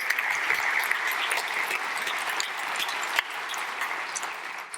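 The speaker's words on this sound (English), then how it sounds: "So a little round of applause, high five around" Applause from a conference audience at a software architecture talk, a dense, even wash of clapping that carries on at moderate loudness for nearly five seconds with no talk over it.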